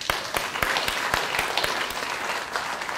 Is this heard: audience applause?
yes